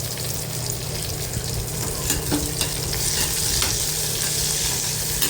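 Bitter gourd with lemon pieces and asafoetida sautéed in a pan, giving a steady close sizzle with soft scraping and stirring, and no talking.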